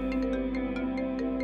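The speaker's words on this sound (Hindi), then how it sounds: "फोन आ रहा है आपका।" A phone rings with an incoming call, its ringtone a short repeating electronic melody with bright pulsed notes about twice a second over a steady low hum, moderately loud, with no voices over it.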